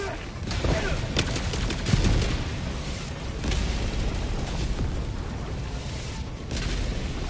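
A string of orbital barrage explosions in Helldivers 2, heavy booms and crackling blasts rolling on continuously under ongoing game noise, with a voice talking over it.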